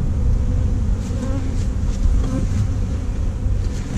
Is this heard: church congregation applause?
no